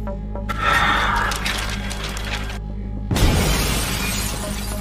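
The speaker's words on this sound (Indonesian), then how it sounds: "tiba-tiba pergi dengan memecahkan kaca jendela" Window glass shatters loudly and close by, a dense crash of breaking shards that tinkle on for a couple of seconds, followed by a second harsh burst of noise over a steady low hum.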